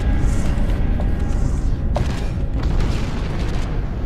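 Booming gunfire and explosions from the video game Space Hulk Deathwing, a dense, continuous rumble of blasts with a few sharper bursts standing out.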